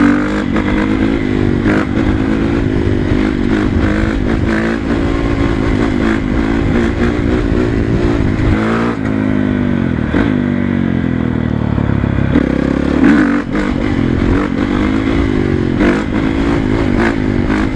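A 2012 Honda CRF450 dirt bike engine runs loud and close for the whole stretch, its exhaust note rising and falling with repeated revving and a few clattering mechanical knocks.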